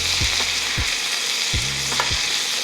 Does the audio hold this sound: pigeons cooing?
no